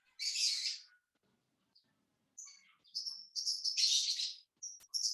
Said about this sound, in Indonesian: suara burungnya kedengaran nggak sih?